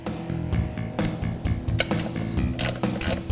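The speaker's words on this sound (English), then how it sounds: "We're putting a couple bolts in here just to hold it for now." Ratchet clicking in quick repeated bursts while clutch bolts are started during a 1996 Mustang Coyote swap driveline install, close and fairly loud with shop clatter alongside.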